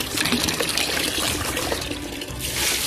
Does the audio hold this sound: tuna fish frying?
no